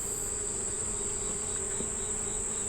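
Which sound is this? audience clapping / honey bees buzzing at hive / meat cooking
honey bees buzzing at hive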